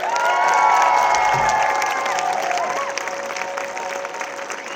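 At a school spring festival concert, the crowd applauds and cheers for the band. The loud, dense clapping is mixed with whoops and children's shouts, and it gradually eases off while a voice carries over it.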